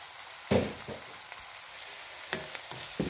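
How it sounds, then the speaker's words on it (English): Thyme, mint and black pepper fry in a pan for a lamb kidney curry, giving a soft continuous sizzle with a few sharper scraping stir sounds spaced across a few seconds, close and fairly quiet. "So guys, you can see all frying together."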